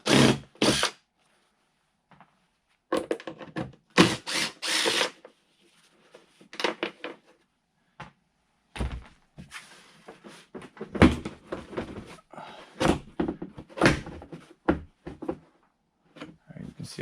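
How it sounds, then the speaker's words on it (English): A 9mm socket wrench removes rear bumper bolts on a 2002-2006 Honda CR-V, with intermittent ratcheting and clicking bursts near the microphone between stretches of someone talking. "I'm gonna use a 9mm"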